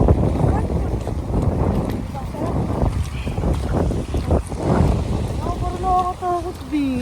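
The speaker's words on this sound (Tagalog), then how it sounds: "May paparating na ulan. at parang umiikot ang mga hangin." Gusty wind buffets and swirls outdoors ahead of approaching rain in Quezon, roaring unevenly in surges, with people talking over it.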